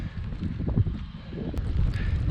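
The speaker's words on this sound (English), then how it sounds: "Very windy" Strong wind buffets a microphone on a hillside hiking trail along the Gritstone Trail, a loud, low, gusty rumble filling the short stretch with no one speaking.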